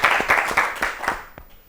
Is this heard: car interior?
no